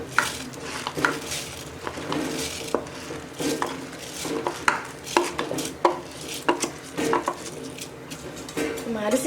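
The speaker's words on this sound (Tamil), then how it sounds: "நல்லா தண்ணி கொதி வந்துடுச்சு. இப்போ நம்ம அரிசி சேர்த்துக்கலாம்." Rice is tipped into a pot of boiling water for coriander pulao, with metal clinks, scrapes of a spoon against the pot and irregular stirring knocks, close and busy with no talk.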